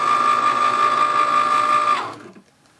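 A Cricut cutting machine whirs steadily while cutting cardboard, a loud close motor whine with a fixed pitch that winds down and stops near the end.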